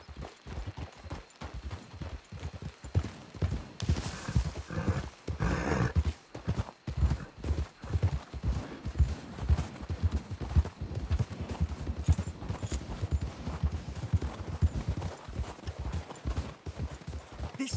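Horse hooves clip-clop steadily at a gallop in Red Dead Redemption 2, close and continuous, with an occasional horse whinny mixed in.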